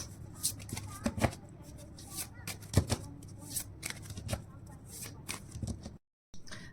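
Tarot cards shuffle close up in a string of quick riffling and flicking bursts, with a brief silent gap near the end and faint talk underneath.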